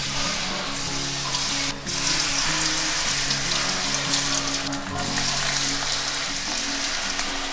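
Battered cauliflower pieces deep-frying in hot oil at medium heat, a steady, dense sizzle and bubbling that runs continuously throughout, close and fairly loud with no talking.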